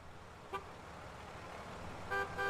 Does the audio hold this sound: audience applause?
no